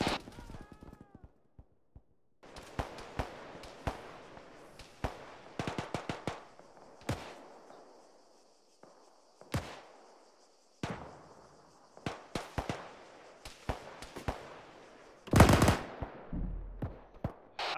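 Scattered Arma 3 video game gunfire during a military roadblock firefight near a tank, sharp cracks and short bursts spaced irregularly with quiet gaps, a louder cluster near the end, mostly without talk.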